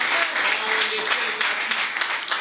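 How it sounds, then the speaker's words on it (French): A church congregation at a Friday worship service claps steadily, a dense patter of many hands with voices mixed in. "Applaudissez pour le Seigneur."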